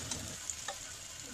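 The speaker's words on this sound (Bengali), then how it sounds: "দেব আদা রসুন বাটা, ভালো করে ভেজে নেব।" Ginger garlic paste frying in a pan for chicken, a soft steady sizzle with a few faint ticks and stirs, close and fairly quiet.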